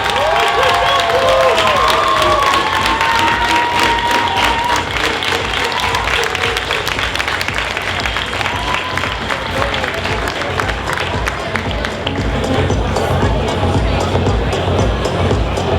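A large crowd at a DreamHack winter cosplay contest applauds and cheers loudly for the winners, a dense, continuous roar of clapping with shouts and whistles near the start, filling a big hall without pause.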